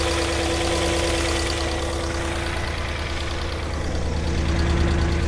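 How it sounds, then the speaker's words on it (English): An abandoned, flood-damaged Porsche Cayenne engine runs with a steady mechanical ticking and knock layered over a continuous idle drone, close and fairly loud, no voices. "the engine had a small ticking sound"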